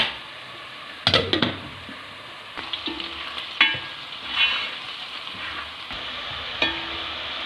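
Whole spices (cloves, black cardamom, cinnamon sticks and bay leaf) sizzle in a pot of oil for chicken biryani, with a soft continuous fry under scattered clinks and scrapes of a spoon stirring against the pot.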